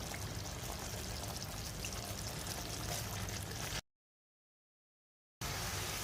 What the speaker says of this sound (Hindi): अब इसके अंदर शामिल कर देते हैं चावल जो हमने स्ट्रेन करके रखे हुए थे।